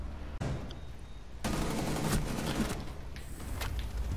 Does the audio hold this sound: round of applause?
no